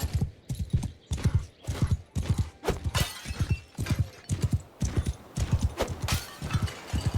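Horse hooves from the video game Mount and Blade Bannerlord, a steady rhythmic clip-clop of galloping strides, close and fairly loud with no talk over it.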